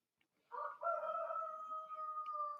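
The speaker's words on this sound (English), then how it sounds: "the rooster who's making all the noise there" A rooster crows once outdoors during a yoga session, a single drawn-out cock-a-doodle-doo at moderate distance against otherwise quiet surroundings.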